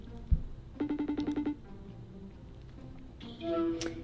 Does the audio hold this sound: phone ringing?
yes